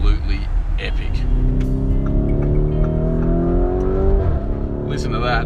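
A Lamborghini Urus V8 engine revs up, its rising exhaust note climbing and dropping back close by, with someone speaking over the sound.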